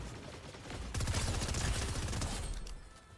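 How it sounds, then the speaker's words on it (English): Rapid bursts of video game gunfire in Fortnite crackle in a dense volley, loud and close, rising sharply about a second in and fading near the end, with no talk over it. "I saw gunshots coming from over there."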